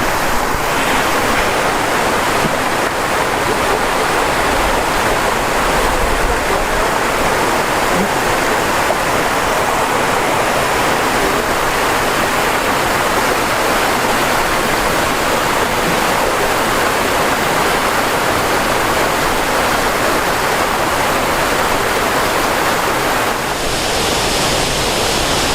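Seven Sisters Waterfall in Grenada roars as a steady, loud, broadband rush of falling water, continuous throughout with no voices, close and full.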